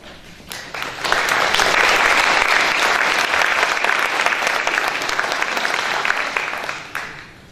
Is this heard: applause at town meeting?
yes